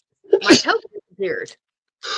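A single sharp, forceful sneeze bursts out close by, followed by people talking.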